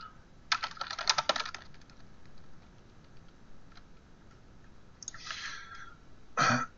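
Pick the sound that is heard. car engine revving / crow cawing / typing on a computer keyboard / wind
typing on a computer keyboard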